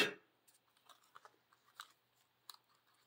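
Scissors snipping mini foam dimensional adhesive pieces for a pop-up card, a series of small, close, crisp cuts spaced irregularly in a quiet room.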